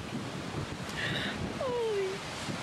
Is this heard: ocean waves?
yes